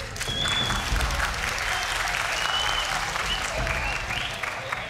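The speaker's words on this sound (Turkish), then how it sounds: "Hayır diyenler yani, alkışlasın." Studio audience at a Turkish talent show breaks into sustained, loud applause, dense clapping with crowd noise steady throughout.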